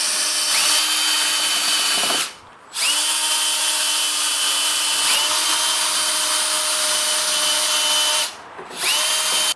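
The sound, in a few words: drill with wire brush cleaning corroded battery posts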